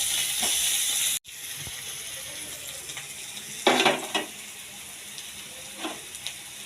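Garlic dropped into hot oil with onions already fried to a reddish brown, sizzling in a steady close hiss, with a sharp crackling burst as it hits the pan and a few smaller spits after.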